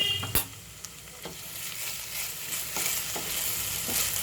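Ginger garlic paste and browned onion frying in a pan for prawn malai curry, a steady close sizzle with a sharp knock near the start and occasional scrapes of stirring, no voices.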